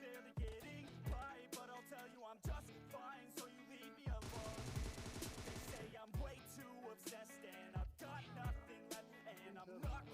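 Bursts of automatic gunfire from PUBG Mobile play over a steady game music bed, with rapid repeated shots in clusters and a dense sustained volley midway, all fairly close and loud.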